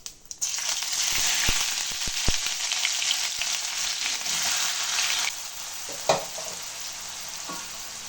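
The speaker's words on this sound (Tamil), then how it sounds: "இப்போ வந்து நம்ம நறுக்கி வச்ச வெங்காயத்தை நம்ம இதோட ஆட் பண்ணிக்கலாம்." Loud, steady sizzling as onions hit hot oil, with a few stirring knocks; the hiss drops slightly partway through and continues.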